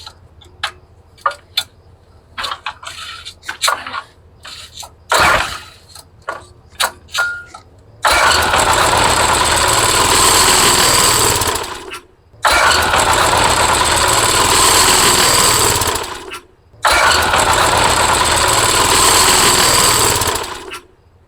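A garden tiller's small engine, given carb spray, fires in short sputters and clicks, then runs loud and steady in three long bursts separated by brief stops, close up with no talking.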